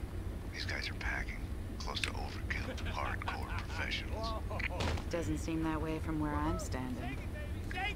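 MP5 submachine gun fire in Max Payne 2, rapid bursts of shots in a noisy firefight, with voices talking over the shooting.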